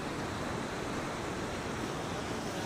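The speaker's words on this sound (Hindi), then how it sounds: "देखो पूरा फ्लड" Flooded Kendua river water rushing in a dense, steady roar, loud and continuous with a windy, noisy texture and no voices heard.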